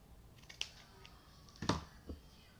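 Scissors snip through Ankara fabric while making earrings, with two crisp, close cuts about a second apart in an otherwise quiet space.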